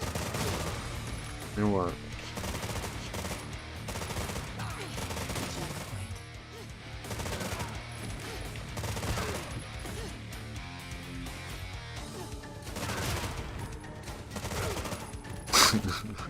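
Rapid gunfire from a gun in the Hayarigami 2 video game, repeated bursts of shots over game sounds, with someone talking between them.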